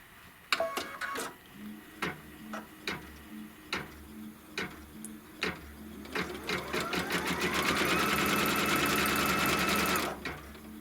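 A sewing machine runs close by, stitching a trim line on fabric: scattered single mechanical clicks and taps at first, then a steady rising whir of continuous stitching before it stops.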